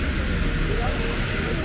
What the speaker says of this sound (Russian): Самолетик.